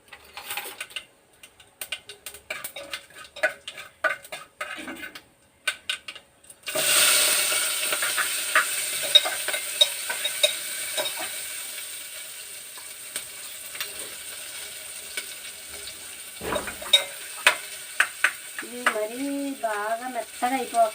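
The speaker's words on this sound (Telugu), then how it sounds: "ఉల్లిపాయలు పచ్చిమిర్చి వేయించుకుందాం" Chopped onions and green chillies with a pinch of turmeric fry in a pan: scattered clicks and clatter at first, then a loud, steady sizzle that fades, with stirring taps and a brief voice near the end.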